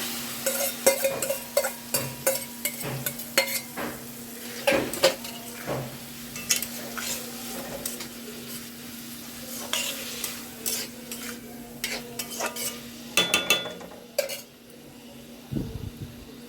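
Minced keema fries in a pan under a spatula, close and busy with irregular scraping strokes and soft sizzling, the clatter coming in quick clusters for over fifteen seconds.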